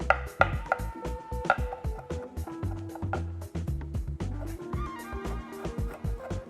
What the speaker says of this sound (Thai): เราก็จะสับกระเทียมให้เข้ากับน้ำเลียบไปเลย